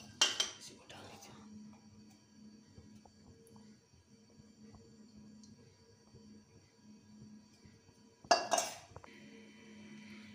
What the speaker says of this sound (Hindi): ये रख दी हमने कढ़ाई और ये गैस कर दी ऑन